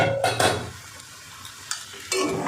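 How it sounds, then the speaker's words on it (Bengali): Fried soybean with potato and young jackfruit sautéed in a pan, short bursts of sizzling and spatula scraping separated by a brief quieter pause, close and without voices. "এবার আমি ভেজে রাখা সয়াবিনটার মধ্যে দিয়ে দেবো, দিয়ে সামান্য 1 মিনিট কষিয়ে নেব"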